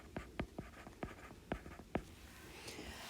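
Notes for a law of sines and cosines lesson being erased and written: several short, scratchy strokes close by, arriving in an uneven rhythm, with no talking.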